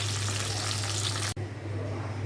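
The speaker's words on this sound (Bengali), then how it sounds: "বেগুনগুলো একটু সুন্দর করে ভাজি" Eggplant slices frying in hot oil, a steady close dense sizzle with a low hum beneath, briefly cut by a sharp dip before the sizzle carries on.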